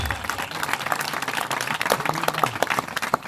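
A church congregation claps its hands together, producing dense, lively applause that carries steadily through the short moment, with no one speaking over it.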